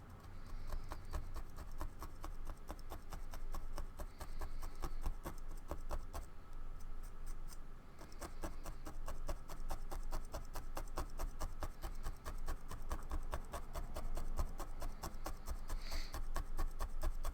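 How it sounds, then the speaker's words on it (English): Wool fibers being scraped out with a carding tool for needle felting, a long run of soft, fast, rhythmic rasping strokes, close and fairly quiet, with no talk. "Just scraping out our fluffy fibers here."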